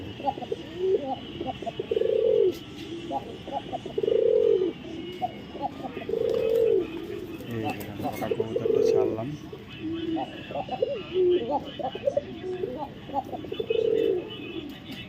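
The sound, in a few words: pigeons cooing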